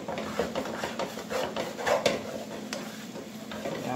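Salty real bacon pieces being stirred into a skillet where a whole egg is frying, with a soft steady sizzle and light scraping of the utensil against the pan, moderately close and without talk.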